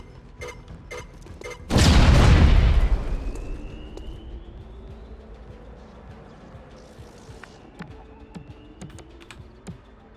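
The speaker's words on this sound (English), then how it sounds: "Sticky bomb, out." A sticky bomb goes off in the video game XCOM: Chimera Squad: one sudden, loud boom that rolls into a long, fading rumble, followed by scattered faint clicks and game noises.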